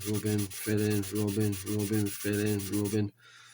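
Filler on an old-tool Airfix B-17 Flying Fortress plastic model kit is rubbed down with abrasive paper in quick back-and-forth strokes, making a loud, close, squeaky scraping that stops abruptly near the end.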